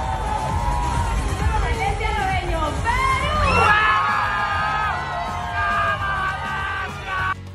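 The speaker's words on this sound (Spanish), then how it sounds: "se desató una locura por parte de los familiares de Alecia, quienes llegaron para hacerle barra desde el público" Family members in the audience at a Miss Universe preliminary swimsuit round cheer loudly, with whoops, shouts and high excited cries over a steady crowd roar. A narrator talks over the cheering.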